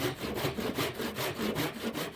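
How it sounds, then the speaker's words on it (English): A handsaw cuts a wooden chine on a 23-foot V-bottom skiff, with steady rhythmic back-and-forth rasping strokes, close and continuous, about four to five strokes per second. "Now I'm making this cut with a handsaw as well."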